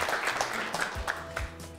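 A game show hall audience applauds a contestant being called to the podium, scattered clapping heard up close with a few sharp individual claps over a brief burst.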